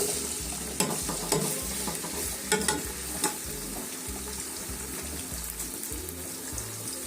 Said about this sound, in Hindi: तो अब हम इसके अंदर भिंडी फ्राई करते हैं। भिंडी को हम फ्राई करेंगे।